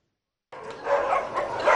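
Stray dogs at an Egyptian animal shelter give a burst of barks and yips after a moment of silence, several dogs sounding close and fairly loud.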